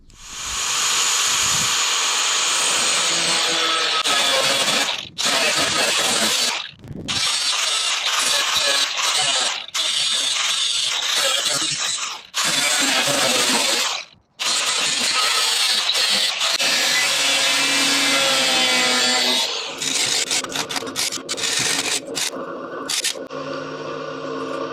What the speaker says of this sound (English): take the Makita to it and cut it out